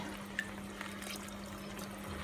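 Water runs into a jar of Rogan Josh curry sauce for rinsing, giving a soft, continuous liquid trickle with faint splashes, quiet and close.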